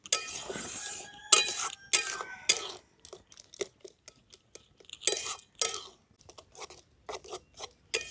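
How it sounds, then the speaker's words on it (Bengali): A spoon stirs semolina with spices in a cooking pan. Intermittent metallic clinks and scrapes come close by, in irregular bursts separated by quiet gaps. "সুজিটা দিয়ে আমি খুব ভালো করে এই সমস্ত মশলাগুলোর সঙ্গে মিশিয়ে নেব।"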